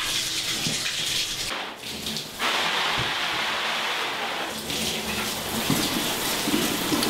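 A home shower runs steadily in a bathroom, spraying water to rinse a silkscreen, a dense hiss with brief dips where the stream is moved or blocked.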